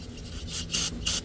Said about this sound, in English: Go ahead and spray some of this brake cleaner